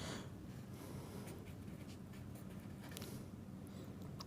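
An answer is written by hand, a faint, close scratching of pen strokes on paper in short, irregular bursts against a quiet background, with no talking.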